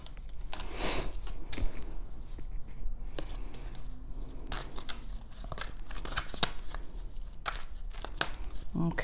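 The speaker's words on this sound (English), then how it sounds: "I'll shuffle one more time, okay?" Tarot cards being shuffled by hand during a reading: close, papery riffles and soft snaps arrive in irregular bursts over a low steady background.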